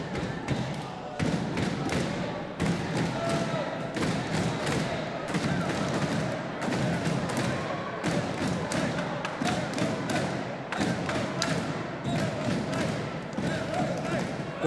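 Body punches land in a professional boxing bout at City Hall, Hull, a fast irregular series of dull thuds and slaps over a steady crowd murmur and ringside commentary.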